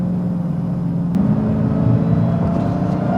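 A car pulling away with a brief acceleration, a low steady engine rumble that swells slightly midway, close and moderately loud with no speech.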